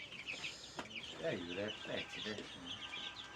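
Chickens cluck in a series of close, bright bursts over a light background hiss, while a person speaks briefly nearby.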